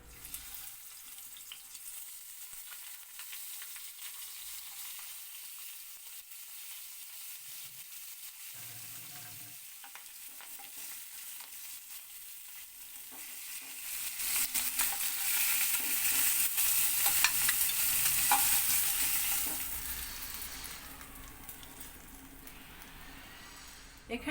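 Rohu fish heads fry in hot oil, a steady sizzle and crackle that swells louder midway and then eases, with faint stirring and no talk.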